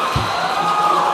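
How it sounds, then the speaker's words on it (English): Dense, sustained applause from a large crowd at a school competition grand finale fills the space, steady and broad with a low thump near the start and faint cheering mixed in. "Please clap for our competing schools."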